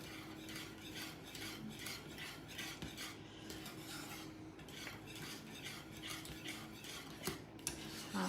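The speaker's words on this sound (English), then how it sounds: "So I want that to go for about a minute while I keep whisking." A whisk scrapes and stirs steadily through thick, boiling lemon meringue pie filling in a pot, a continuous close metallic rubbing and clinking with no voices.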